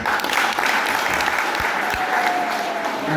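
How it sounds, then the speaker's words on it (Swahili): Applause from a crowd at a political party gathering in Kiambu, a dense continuous patter of many hands clapping, fairly near and steady for the full stretch. "Nipigwe makofi"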